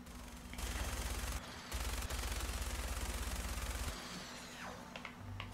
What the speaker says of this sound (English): I'm still being shot at from somewhere